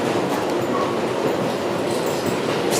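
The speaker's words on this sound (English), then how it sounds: "once again I have my own train subway car all to myself." Loud, roaring rumble inside a moving subway car in the Bronx, continuous rushing wheel and track noise with faint squeals over the whole stretch.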